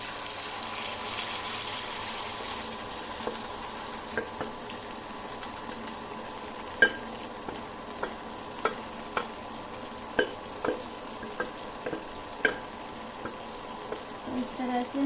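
Grated carrot halwa mixture is added gradually to a hot pan and stirred, giving a soft steady sizzle with a series of regular light scraping clicks from the spoon in the second half.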